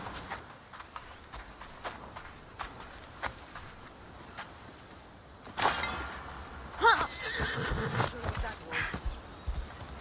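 Horse hooves in Assassin's Creed Odyssey, with soft irregular clopping over insect and cricket ambience, then a louder burst of movement and snorting sounds from the horse in the second half.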